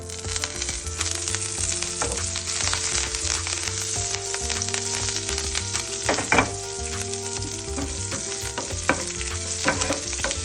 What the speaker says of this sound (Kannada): ಎರಡು ಟೇಬಲ್ ಸ್ಪೂನಷ್ಟು ಎಣ್ಣೆ ಹಾಗೂ ಸ್ವಲ್ಪ ಕರಿಬೇವು ಸೊಪ್ಪನ್ನ ಅದೇ ಪ್ಯಾನಲ್ಲಿ ಫ್ರೈ ಮಾಡ್ಕೊಳ್ಳೋಣ